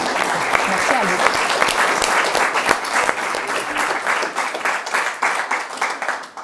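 The audience at the 112th general assembly of the Geneva Red Cross gives a long round of applause. Dense, even clapping holds throughout, then starts to thin and turn choppy near the end.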